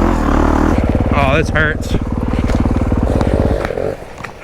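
A dirt bike engine idles and revs unevenly up close, its throbbing drone mixed with wind and rattles while someone talks over it.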